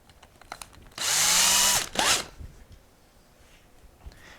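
An electric drill whirs at full speed for about a second as it bores through plastic into foam underneath, then gives a brief second burst, loud and close, in a quiet workshop.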